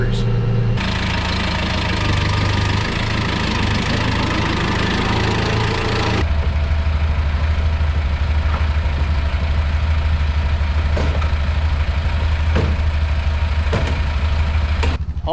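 A farm tractor fitted with a front end loader idles close by with a steady low diesel rumble, a rougher, busier stretch at the start giving way to an even drone with occasional faint clicks.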